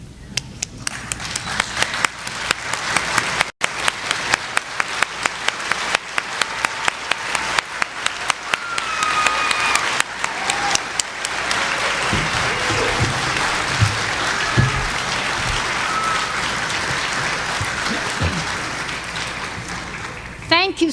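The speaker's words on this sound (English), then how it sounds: "join me in applauding this faculty, Dr. Fever, all of you." A commencement audience applauds the faculty with loud, sustained clapping. It starts as distinct claps, swells into a dense continuous roar and carries on for about twenty seconds, with scattered voices and cheers in the crowd.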